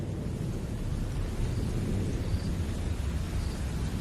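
Steady winter rain in Botswana with a constant broadband hiss and a low rumble underneath, like a downpour with distant thunder; no voices.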